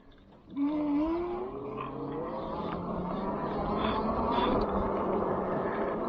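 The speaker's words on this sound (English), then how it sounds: "Well, you can hear this motor kick in for sure." An electric bike's motor drone starts abruptly and keeps running, with a rising whine as it spins up; the hum stays fairly loud and constant throughout.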